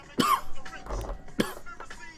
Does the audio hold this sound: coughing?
yes